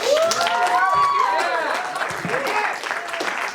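Audience applause for a stand-up comic at a comedy show, a dense crowd clapping throughout with cheers and whoops mixed in, loud and close, tapering only slightly toward the end.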